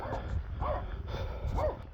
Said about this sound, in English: Hear the dog bark.